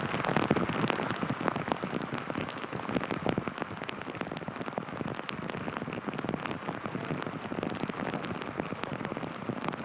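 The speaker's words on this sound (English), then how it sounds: "look at that rain melting the course and melting the players" Heavy rain pours onto a golf course during a professional tournament round, a dense, steady hiss of drops across the whole stretch with no pauses and no talking.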